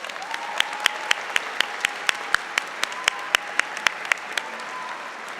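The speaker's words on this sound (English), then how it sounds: "So let's give them a special round of applause." Applause rises from a graduation convocation audience as a continuous wash of clapping, overlaid by a steady series of sharp, individual claps about every quarter second, with no speech.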